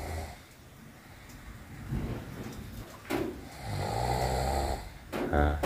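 A man snores while asleep in a forest hut, a few rough breaths rising louder near the end, with outdoor background noise throughout.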